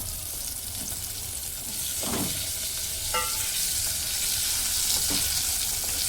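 Brinjal pieces frying in oil with turmeric for a brinjal and dried fish dish, a steady close sizzle throughout with a few scraping stirs of a spoon.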